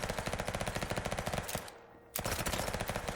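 Rapid automatic gunfire from the Hard Bullet VR game fires in fast, continuous bursts, loud and close, with one short pause before the shooting resumes.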